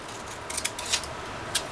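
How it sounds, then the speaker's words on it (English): Scissors trimming the edge of die-cut paper for a lace border: a few quick, faint snips close by over a quiet room hum. "So I'm just trimming off where the die stopped."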